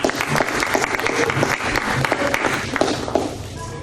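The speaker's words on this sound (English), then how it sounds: "I think we need Daryl a quick round of applause for his talk." A live audience gives a loud, dense round of applause after a talk on political activism and abolition, sustained clapping filling the whole stretch at close range.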